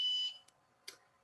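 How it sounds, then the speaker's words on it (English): A relay-triggered buzzer in a homemade IoT alarm system sounds one short, sharp electronic tone. Two faint clicks follow it in otherwise quiet surroundings. "The relay open, and the buzzer makes the tone."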